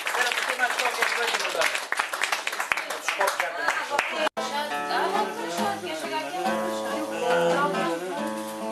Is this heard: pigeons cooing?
no